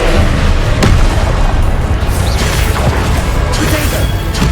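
Confringo and Incendio spell blasts in the Hogwarts Legacy video game, loud, dense combat noise with overlapping bursts and sharp impacts, continuous and close.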